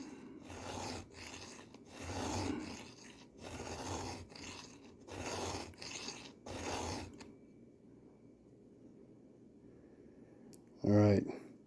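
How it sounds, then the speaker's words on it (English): A hand file sharpens a chainsaw chain in six rhythmic, close rasping strokes about one per second, followed by quiet and a brief knock as the file is cleaned. "We're gonna give her just a couple more strokes, clean my file out."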